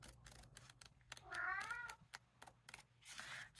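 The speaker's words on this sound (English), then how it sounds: "Not sure why my cat is being so chatty tonight." Indoors on a quiet evening, a house cat meows twice, two drawn-out chirpy calls separated by soft tapping and light clicks, close and fairly clear.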